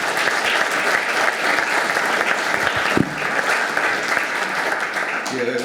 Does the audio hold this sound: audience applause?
yes